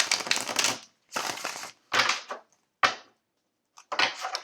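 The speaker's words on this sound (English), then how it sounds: "As I shuffle, I'm just going to be tuning into your energy" Tarot cards shuffled by hand during a horoscope reading: five separate bursts of crisp riffling and slapping, each under a second, with short silent gaps between them and no voices.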